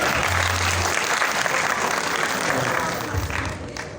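Audience applause fills an awards show hall, a steady dense roar of clapping that holds loud and continuous throughout before easing slightly near the end.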